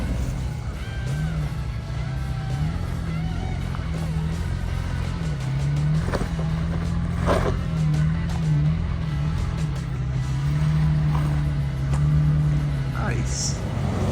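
An off-road vehicle crawls a trail in two-wheel drive low range with the rear lockers engaged, its engine holding a steady low drone with slight rises in revs, close and loud throughout.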